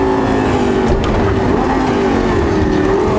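Lamborghini Gallardo LP 560 Coupé engine running steadily during a test drive, a loud continuous drone with a strong low hum and no talk over it.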